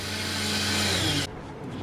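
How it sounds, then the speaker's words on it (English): A power drill whirs continuously at close range for just over a second during a box van wall installation, then cuts off abruptly, leaving faint room noise. "Drill."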